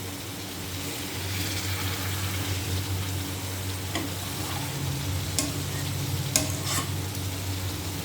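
Masala and egg frying in a pan for a jackfruit (echor) and egg curry, with a steady close sizzle and scraping stir strokes running the whole time, plus a couple of sharp clinks near the end.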